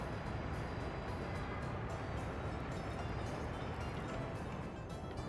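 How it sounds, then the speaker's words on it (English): A train in the video game Workers & Resources rumbles and rattles steadily throughout, a dense continuous roar with no clear breaks. "this train is going to fuel itself"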